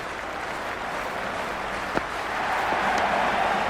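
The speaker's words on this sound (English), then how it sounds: "this crowd is already making it hard for me to be heard." A stadium crowd roars and cheers at a T20 World Cup cricket match between Sri Lanka and Australia, a steady wash of noise with scattered clapping that swells louder near the end.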